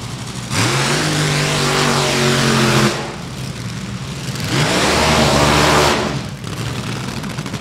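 Nostalgia Top Fuel front-engine dragsters fire up and rev, two long, loud, raw bursts of engine roar with a brief lull between them at a hot rod reunion drag strip.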